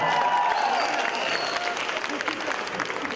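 Audience applause at a stand-up comedy show, a broad burst of clapping from the crowd that starts loud and gradually thins out, with some voices mixed in.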